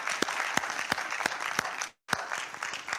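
An audience at a virtual summit applauds steadily, with a dense wash of clapping and a few sharper individual claps. It cuts out briefly before resuming at the same level.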